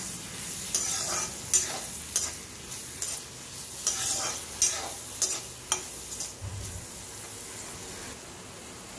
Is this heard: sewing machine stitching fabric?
no